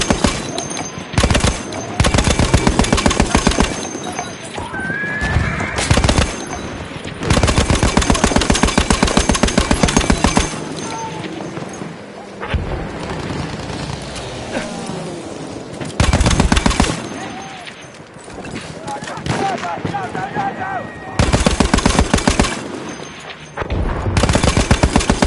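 Rapid machine gun bursts in a video game battle, loud and repeated in several long volleys with short gaps, mixed with explosions and gunfire chatter throughout.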